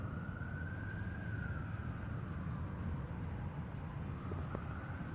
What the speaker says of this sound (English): Thanks for the fucking sirens.